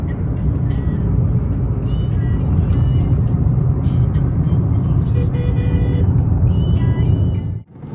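A car cruising along a road on a trip to Jawai, a loud steady engine and tyre rumble filling the cabin throughout, easing off sharply near the end.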